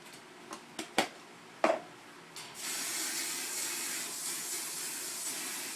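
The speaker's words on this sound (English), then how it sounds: "Give it one last spray." Pantene Pro V flexible hold hairspray hisses onto hair: a few short sharp bursts, then one long continuous spray held for several seconds, close and fairly loud.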